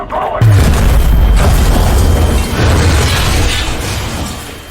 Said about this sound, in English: that explosion probably should have shattered the glass also